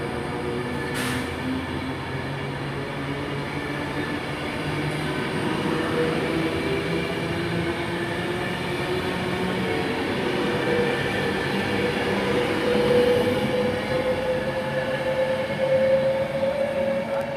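A Virgin Trains passenger train rumbles steadily as it pulls away from Milton Keynes Central, wheels and motors droning with a rising whine and a faint squeal, no voices present.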